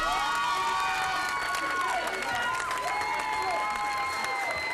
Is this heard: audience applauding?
yes